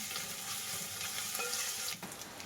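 Ginger garlic paste with curry leaves sizzles steadily in hot oil while a spoon stirs through it, a dense close frying hiss with occasional scraping knocks and no talking.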